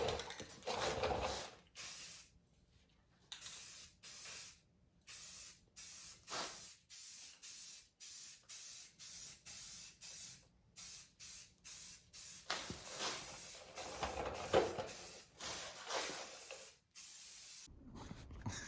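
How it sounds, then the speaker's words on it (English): Spray gun laying primer onto restored Willys Jeep frame parts: repeated bursts of close, loud hissing spray separated by short gaps, some passes long and steady, others brief, with no talk. "I'm gonna make sure these things are nice and clean, and then throw some primer on them"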